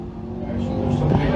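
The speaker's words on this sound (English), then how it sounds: "So Jamie Brown gets his car back underway, and he is showing white." Dirt track sportsman race car at a speedway pulling away again, its engine revving up in a rising rumble, with an announcer talking over it.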